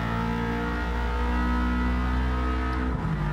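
In Gran Turismo 7, race cars including an AMG and a Lamborghini rev hard along a straight in a World Touring Car 600 event at Grand Valley, a loud, sustained engine drone with layered harmonics and a brief dip near the end.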